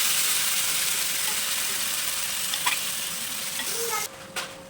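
Leftover tandoori masala sizzles steadily in a pan while it is stirred, with a continuous close hiss and a few scraping strokes near the end.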